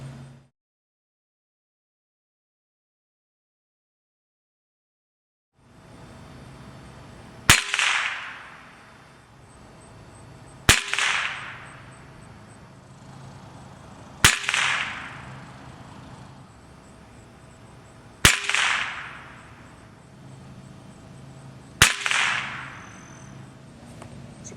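Five sharp cracks from a Winchester 1100 XSU .177 spring-piston air rifle firing PBA pellets, evenly spaced several seconds apart after a silent start, each a loud close snap followed by a brief hissing ring-off.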